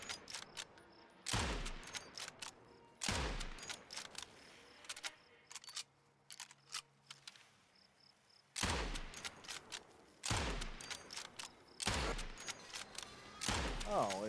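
Gunfire in the video game Nightingale, aimed at a Sun Titan: bursts of loud sharp shots fired in clusters, separated by quieter gaps.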